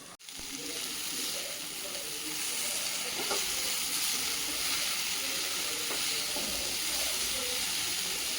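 Raw banana slices cooking in a covered pan on low heat, giving off a soft, even hiss of steam and gentle sizzle with a few faint ticks.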